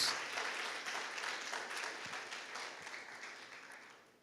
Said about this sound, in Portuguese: Salva de palmas para a glória de Deus